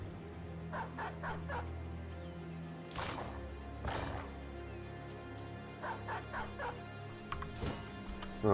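Dogs barking in the medieval tactical video game Battle Brothers, a few sharp, separate barks over a quiet, low ambient game backdrop.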